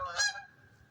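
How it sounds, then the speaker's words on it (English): A Canada goose honks loudly and nearby on a cold day in South Carolina, one strong nasal call followed by a fading trailing tone. "excuse the Canadian geese that are here"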